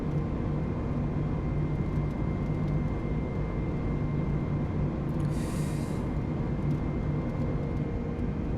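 An airliner climbs after takeoff on a stormy night in Microsoft Flight Simulator 2020, heard as a steady, loud cabin roar of engines and airflow with a constant low hum and no break.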